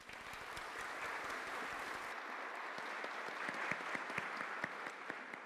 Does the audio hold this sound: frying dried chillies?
no